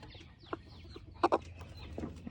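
Hens cluck in a wooden nesting box on a homestead, a few soft calls followed by two louder, close clucks in quick succession and a brief later murmur, over quiet farm ambience.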